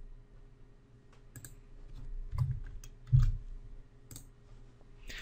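A few sharp, quiet computer mouse clicks in Excel 2013, isolated taps spaced across a near-silent room background.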